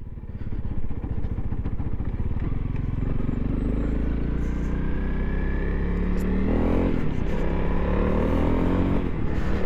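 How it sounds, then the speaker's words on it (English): A 2022 Honda CRF300L motorcycle engine warms up on a road, a close, steady low idle with a rising rev near the end. "Just going to warm the bike up a little."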